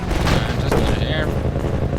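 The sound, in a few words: gunfire in the video game Minerva: Metastasis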